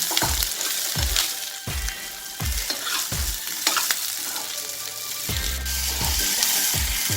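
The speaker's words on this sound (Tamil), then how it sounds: "நம்ம எடுத்து வச்சுருந்த சின்ன வெங்காயம், தக்காளி இதெல்லாம் போட்டு லோ ஃப்ளேமில் வச்சு ஒரு 15 மினிட்ஸ் நல்லா வந்துட்டு இது வணங்கணும்" Small onions and tomatoes sautéing on a low flame, heard as a gentle frying hiss broken by a regular series of spoon or spatula knocks against the pan, with no voices.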